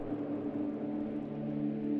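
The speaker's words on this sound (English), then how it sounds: "I'm using this, it's called a plate space piano, which in isolation sounds like this." A soft, sustained plate space piano sample tone hangs alone with a hazy, noisy texture beneath it, quiet and steady throughout.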